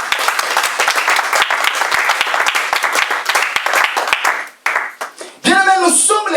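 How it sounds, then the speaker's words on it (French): A church congregation breaks into loud, sustained applause, dense clapping filling the space for several seconds before fading, followed by a brief burst of music or singing at the end. "Acclame pour la parole de Dieu."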